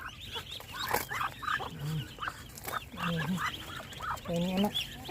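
Ducks quack in loud, nasal bursts close by, a few calls at a time with brief pauses, amid other fowl and faint background voices.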